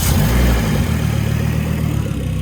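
A loud, steady low rumble from a Volvo car engine idling close by, deep and throbbing throughout with no voices.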